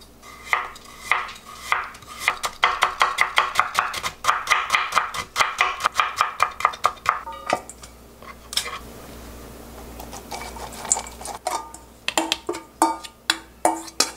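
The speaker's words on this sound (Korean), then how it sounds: "무를 조금만 채 썰게요." A knife julienning summer radish on a cutting board makes rapid, regular chopping taps in quick bursts, close and crisp, with a brief pause midway before more cuts and a few clinks of utensils.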